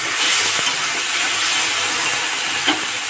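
Steady, loud sizzling hiss from a paste of ground ginger, garlic, whole cumin and whole coriander hitting onions fried until red with tomato, for a sea fish curry with potato and eggplant; continuous, close and without talk.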